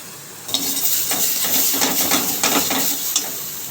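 Grated ginger and garlic sizzle in a pan without extra oil, after lightly fried carrots are removed, for a Chinese-style paneer and baby corn dish; steady frying hiss with repeated close scraping and clinking of a spatula stirring against the pan.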